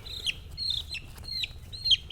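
A young broiler chick peeps repeatedly in high, sharp chirps, about five calls in quick succession, close and clear over a low background hum.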